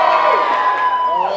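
A crowd at an anime festival cosplay contest cheers and whoops loudly, with a continuous, dense roar of shouting voices all the way through.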